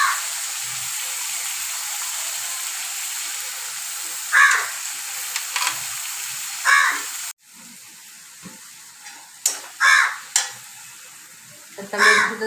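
Tomatoes sautéed in a pan with browned onion for a sprouted green moong usal, a continuous soft frying hiss with several scraping stirs breaking through at intervals. The hiss drops partway through.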